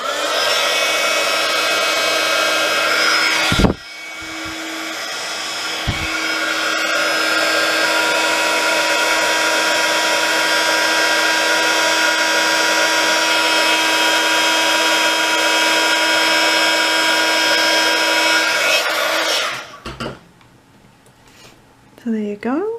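A heat tool blows steadily to heat-set stamped watercolour card for a Halloween project, a loud continuous whirring hum lasting most of the stretch before cutting off, with brief clicks as it switches on and speech after.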